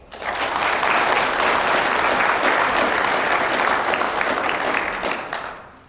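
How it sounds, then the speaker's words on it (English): Sustained applause from an audience at a community college career and technical education signing day ceremony, rising quickly, holding steady and loud for several seconds, then tapering off at the end. "Would you give her a big round of applause?"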